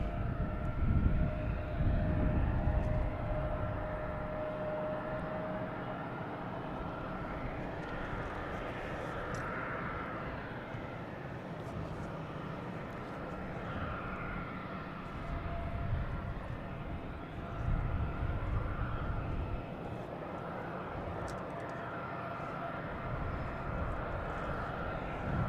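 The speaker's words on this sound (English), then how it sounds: "All right, we have JetBlue lined up, heading to Fort Myers. Making all the racket out there in A220" A JetBlue Airbus A220 on its takeoff roll for Fort Myers at Boston Logan, the engines a loud continuous roar with a heavy low rumble, rising and swelling in waves throughout.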